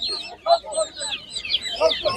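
Hens cluck and peep at an outdoor poultry market, a few short, close calls in quick bursts with people's voices mingled among them.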